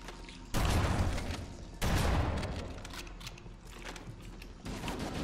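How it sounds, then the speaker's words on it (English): Explosions from a grenade in the co-op shooter Halo: Combat Evolved, two heavy broadband blasts in quick succession followed by a rumbling tail and further crackling gunfire-like bursts, loud and close with no talk. "Oh, that's a grenade."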